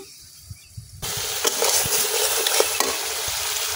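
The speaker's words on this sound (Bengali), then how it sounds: "এখন আমি মশলার সাথে চিংড়ি মাছের শুটকি গুলা কিছুক্ষণ কষাইলাম।" Dried shrimp fry with spices in a pan, a sizzle that jumps in loudly after a quiet moment, with a spatula scraping and clicking against the metal at uneven intervals; no talking.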